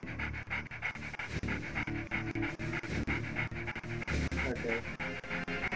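A dog pants rapidly and rhythmically in the video game Jet Force Gemini, a steady run of quick breathy huffs close up and continuing throughout.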